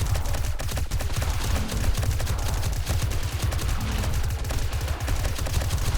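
Dense, continuous gunfire in the zombie survival game 7 Days to Die during a horde night, rapid overlapping shots in a steady barrage, loud and close with no pauses.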